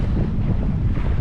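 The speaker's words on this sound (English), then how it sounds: "You can just hear a light wind." Light wind buffets the microphone aboard a stopped boat on open water while the outboard motor idles at the back, giving a steady, close, rough low rush for the whole short moment with no talk.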